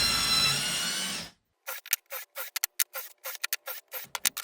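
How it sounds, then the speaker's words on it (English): A drill boring pilot holes for a tiled shower niche runs in one loud continuous whine, then stops, followed by a string of quick, sharp clicks and taps nearby. "So I've just drilled the pilot holes now."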